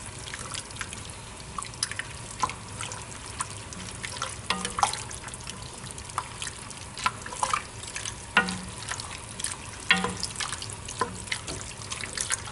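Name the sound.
stirring beef stroganoff meat and sauce in pan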